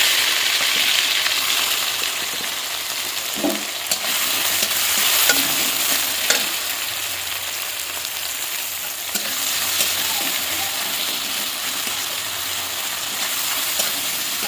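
Tomatoes fry in hot oil with a little sugar for a young jackfruit fish curry, a steady loud sizzle broken by scraping stirs and occasional clinks of the utensil against the pan, with no talking.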